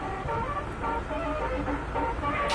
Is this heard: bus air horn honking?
yes